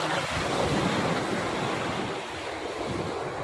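Sea waves wash steadily against the shore in a continuous broadband roar with some wind noise on the microphone, loud and close, with no talking.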